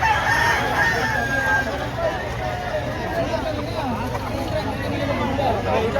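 Rooster crowing at a busy chicken market in Lipa, Batangas, amid the 11-month-old birds on sale, with steady crowd babble and people talking throughout.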